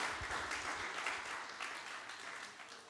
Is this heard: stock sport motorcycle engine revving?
no